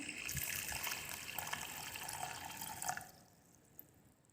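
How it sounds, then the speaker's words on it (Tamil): A glass of water is poured into a pot holding jaggery for neem flower sharbat. A close splashing trickle runs for about three seconds, then stops. "தண்ணி ஊற்றிக்கலாம்"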